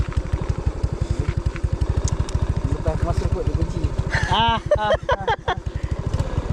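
A motorcycle engine idles close by with a steady, rapid low thump, running continuously while people talk nearby.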